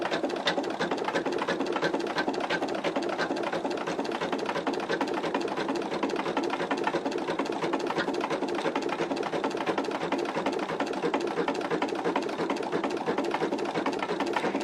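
An embroidery unit stitches an orange peel design at a very slow setting, giving a steady, continuous mechanical whir with fine rapid needle ticks throughout, close and moderately loud, with no talking.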